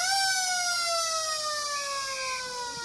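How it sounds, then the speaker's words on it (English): A long, loud siren marks the end of a quarter at an under-15 Australian rules football match in the Riverina. It holds one steady wailing tone that slowly falls in pitch, with no talk over it. "As the siren goes to end this second quarter."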